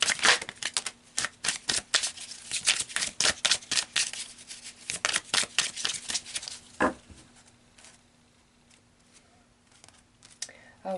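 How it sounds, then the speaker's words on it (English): Tarot cards are shuffled and riffled in rapid, close, loud bursts of papery flutter for several seconds, slowing into sparse soft card handling toward the end. "So let's pull some more cards and see what else Spirit would like to add to this."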